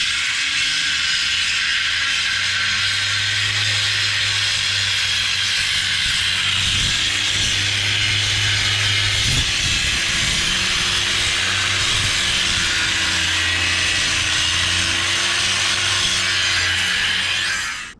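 A piece of car rail is cut during a custom restomod build, making a continuous loud, harsh grinding hiss with a low droning hum under it. The noise holds steady for the whole stretch, then cuts off at the end.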